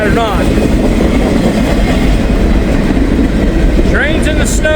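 Loud rumble and clickety-clack of a Norfolk Southern freight train's cars passing close by in falling snow, steady for several seconds, with faint voices.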